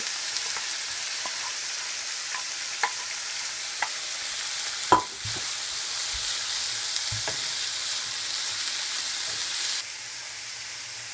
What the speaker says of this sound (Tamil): ஸோ நல்லா லைட்டாக எண்ணெயில் ஃப்ரை பண்ணிட்டுருக்கோம்